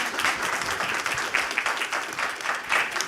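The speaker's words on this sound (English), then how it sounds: "Can we give them a round of applause?" Audience at a women-in-tech talk event applauding in a steady, dense wash of clapping at moderate distance, without talk.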